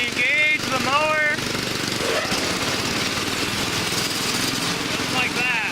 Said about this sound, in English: Now let me engage the mower.